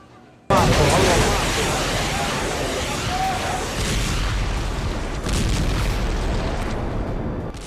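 Bomb blasts from Israeli strikes on Gaza in news footage: a sudden loud boom gives way to a sustained, roaring rumble of debris and noise, with a second surge partway through and voices faintly mixed in.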